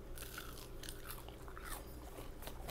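Close, crisp bites and crunching of crackly skin on smoked Cajun braided pork belly, a few sharp crunches followed by quieter chewing, with no talking.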